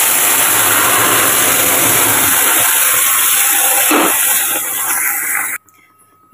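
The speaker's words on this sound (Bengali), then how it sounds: "এবার ডালটা দিয়ে দেবো।" Boiled dal poured into a hot pan, a loud rushing hiss and bubbling surge that fades over several seconds before cutting off abruptly.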